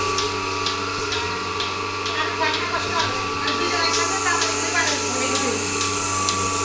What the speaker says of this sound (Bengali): এটা হলো তুরস্কের দুধ দহনো মেশিন, মিলাস্তি মিল্কিং মেশিন।